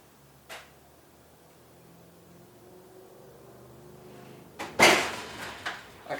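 A loose oven door is pulled open with a faint click, then a sharp clattering crash as its glass panel drops out, followed by a few smaller knocks nearby.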